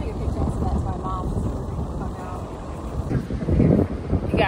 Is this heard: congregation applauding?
no